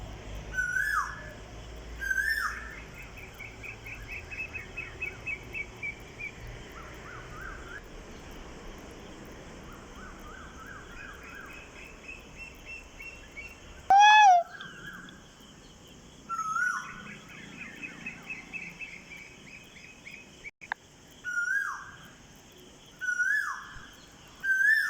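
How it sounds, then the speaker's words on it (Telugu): Asian koel perched in home garden trees at early morning, calling repeatedly in rising whistled notes, some near and loud, others fainter, over a busy background of smaller birds chirping. "ఆ చెట్ల మీద కూర్చొని అరుస్తూ ఉంది."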